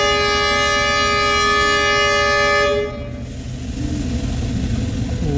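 SGR passenger train at a station on the Nairobi to Suswa line, sounding a long, loud, steady horn blast close by that cuts off partway, leaving a low rumble of the train starting to move.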